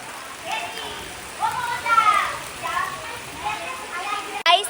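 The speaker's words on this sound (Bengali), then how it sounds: "এখন বৃষ্টি পড়ছে আর আমরা দেখো বৃষ্টিতে সবাই বসে রয়েছি কারণ বৃষ্টি ভীষণ জোরে হচ্ছে" Heavy rain falls hard and steadily, a continuous broadband hiss throughout, with voices talking and calling over it nearby.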